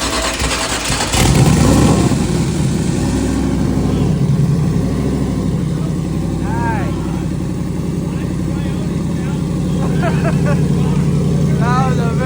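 A turbocharged car engine on a dyno fires up for the first time after a loud initial burst, then settles into a steady, throaty idle with slight revving, close and loud, while people talk over it.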